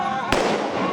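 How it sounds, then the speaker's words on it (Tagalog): A sharp firecracker bang cracks out on a street in Tondo, Manila, during Christmas festivities, a single loud close burst over a dense, continuous hiss of street noise. "Kaliwat ka ng paputok ang sinindihan nila sa kalsada"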